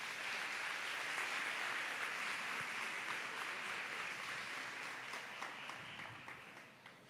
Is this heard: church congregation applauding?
yes